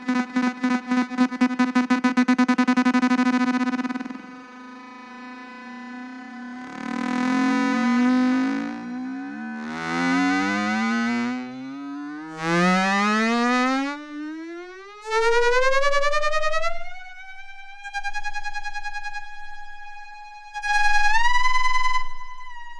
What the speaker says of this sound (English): I'll reduce the grain size, and you'll notice the loops get smaller